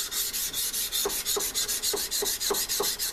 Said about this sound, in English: start sanding with the length of your blade.